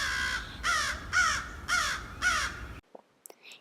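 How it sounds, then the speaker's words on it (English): Crows mob an owlet in woodland, giving five harsh, rhythmic caws at close range before falling silent. A few faint, brief calls follow at the end. "And there the crows just found him now."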